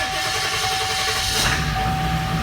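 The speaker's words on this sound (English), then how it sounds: "At least this Ford actually starts." A Ford Power Stroke van's diesel engine turns over and runs, a steady close mechanical drone with a constant whine, no voices over it.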